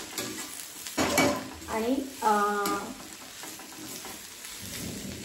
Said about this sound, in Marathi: लसूण आणि बारीक तोडून मिरच्या टाकूया आणि छानपैकी भाजून घेऊया